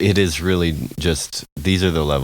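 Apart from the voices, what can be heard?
None of the usual background noises is heard.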